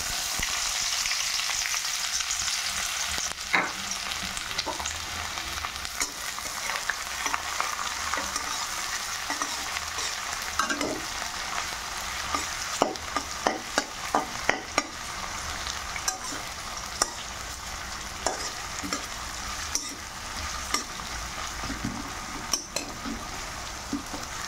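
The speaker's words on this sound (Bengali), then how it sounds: "তেল গরম হয়ে গেছে, এখন আমি পেঁয়াজগুলো দিয়ে দেব।" Onions frying in hot oil for a dried-fish dish, a continuous bright sizzle with occasional stirring clicks and utensil taps, close and steady for the whole stretch.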